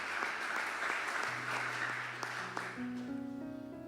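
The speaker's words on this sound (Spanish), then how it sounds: "Denle un aplauso a la palabra de Dios." A church congregation applauds together, a dense wash of clapping that runs steadily throughout, with sustained organ or keyboard chords rising underneath toward the end.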